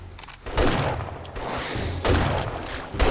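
Gunfire in the survival game 7 Days to Die comes as dense, loud bursts of rapid shots, one volley starting about half a second in and another near two seconds, with no talking.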